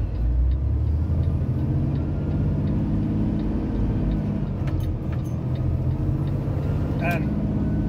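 An Audi four-wheel drive on 3 Peak Snowflake tires cruises along Colorado's Highway 285 through the mountains, with a steady, close interior road and engine drone running throughout beneath a voice.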